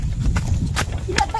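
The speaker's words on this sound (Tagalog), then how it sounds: "Nakig-away yung kabayo guys." Horses scuffling and fighting, with heavy hoof thuds and a sharp neigh or whinny cutting through close, loud commotion while people talk over it.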